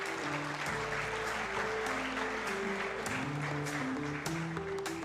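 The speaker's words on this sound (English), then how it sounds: "Can we have a big round of applause for the gentlemen?" Spectators at a squash world championship final clap steadily and continuously, a moderate wash of applause heard from within the venue, while faint tonal sounds hover in the background.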